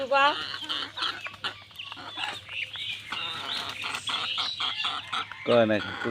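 A large rooster crows twice, at the start and again near the end, loud and close, with clucking and other farmyard bird noises filling the gaps and faint voices in the background.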